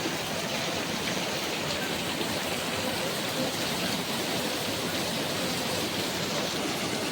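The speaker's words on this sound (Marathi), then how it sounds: "खूप म्हणजे खूपच जोरात पाऊस चालू आहे बघू शकता तुम्ही" Heavy rain pours down without pause, a dense, loud, even roar of drops on surfaces filling the whole stretch, with no voices heard.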